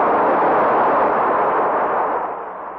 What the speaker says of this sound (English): The explosion had created a sort of earthquake.